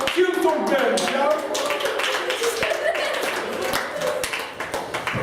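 Scattered clapping for a band at a kids camp, uneven with sharp taps, while voices and some sung or talking sounds run over it.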